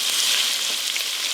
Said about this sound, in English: we're just going to let this cook for a few minutes until the onion gets a little bit soft.